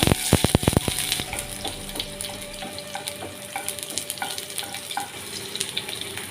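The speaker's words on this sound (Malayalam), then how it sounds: "കടുക് പൊട്ടിക്കഴിഞ്ഞാൽ ഇതിലേക്ക് അരിഞ്ഞു വച്ചിരിക്കുന്ന 3 ചെറിയ ഉള്ളി ഇട്ട് കൊടുക്കുക" Three chopped shallots go into hot oil in which mustard seeds have already popped, for a coconut chutney. A quick burst of sharp pops and clatter gives way to a steady, close sizzle with scattered crackles.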